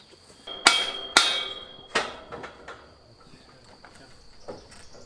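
Three sharp hammer strikes in quick succession, loud and close, on a farmhouse roof renovation, followed by a few fainter taps against a quiet background with a faint high insect-like hum.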